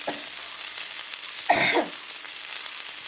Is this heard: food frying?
yes